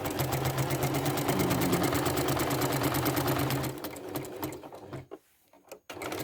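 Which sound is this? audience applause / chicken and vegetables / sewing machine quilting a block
sewing machine quilting a block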